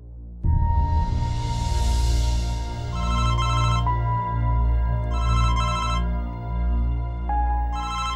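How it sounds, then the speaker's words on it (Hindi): A mobile phone ringtone plays loudly and repeatedly, a looping electronic melody with short pauses between bursts, close by with a steady background hum. "तुम्हारा फोन बजे जा रहा है, बात कर लो।"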